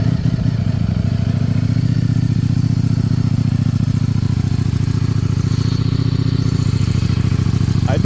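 A Ducati V4S superbike engine idles steadily at low revs, a continuous, fairly close rumble with an even mechanical clatter and no talk over it.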